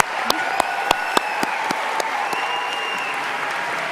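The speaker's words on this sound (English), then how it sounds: "Give yourselves a round of applause for that." A crowd at a conference panel applauding steadily, dense clapping throughout with a few sharper claps standing out near the start.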